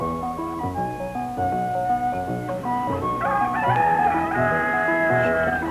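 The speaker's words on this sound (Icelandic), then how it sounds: "Fogg vaknaði við hanagal." A rooster crows loudly and steadily at a farmyard in an animated children's story, its drawn-out call ringing over a light musical backing.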